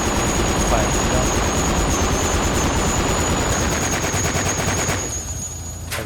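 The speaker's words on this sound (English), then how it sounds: "This is for the 50 caliber machine gun." A .50 caliber machine gun fires continuously in a video game, a dense, steady roar of rapid shots with a high whine running over it, easing slightly near the end.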